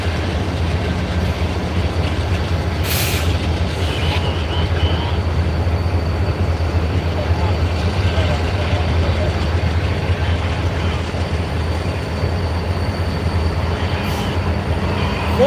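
CP Heritage locomotive 7015 leads Norfolk Southern train 179 past Coffey's Cliff, a continuous loud rumble of rolling rail cars with faint wheel clatter and a few brief high squeals, no voices.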